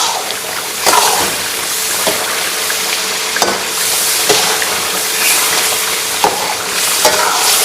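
Peshawari charsi chicken karahi frying in plenty of oil, a loud, constant close-up sizzle with occasional stirring scrapes and clanks against the karahi.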